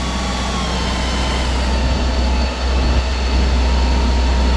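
A refurbished Onan 15.0 JC generator idles during a load bank test with a loud, steady low engine drone and hum that barely dips for a moment, close by and with no speech.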